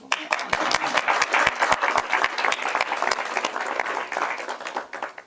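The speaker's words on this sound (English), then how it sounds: "I just want to clap for her" Audience applause at a live-streamed state superintendent's budget announcement, a steady mass of claps with a few sharper individual hits standing out, fairly close and sustained before tapering at the end.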